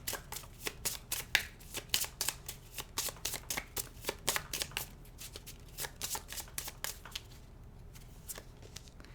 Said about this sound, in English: So I'm just going to shuffle a little bit.